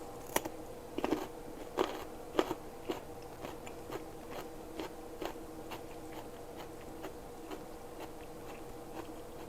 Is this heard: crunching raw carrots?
yes